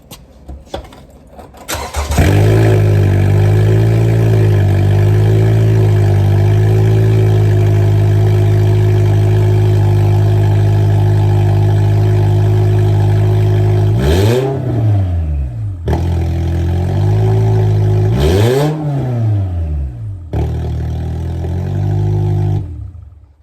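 A Toyota 2.5-liter 2AR-FE four-cylinder running with no exhaust fitted starts up loud and raw, holds a steady harsh idle, then is revved sharply twice before settling back, close and alone with no talk.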